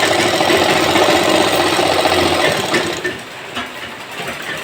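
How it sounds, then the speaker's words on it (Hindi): An electric sewing machine stitches a seam on a pair of trousers, its steady fast mechanical whirring running loud and continuous, then easing and stuttering slightly toward the end. "इस तरीके से हम यहाँ पे सिलाई लगा देंगे।"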